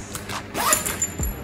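A zipper on a makeup pouch is pulled along its track in a quick close rasping run, with a short second zip at the end.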